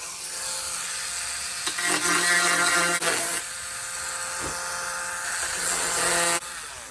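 Rotary tool grinding out the door windows of an RC Sky Crane model, a steady high-pitched whine with shifting pitch as the bit bites into the plastic, continuous and close, briefly easing near the end.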